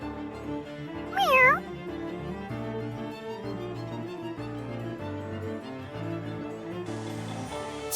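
A cat meows once, rising and falling, in the video game The Adventures of Elliot, heard clearly above a steady background music score.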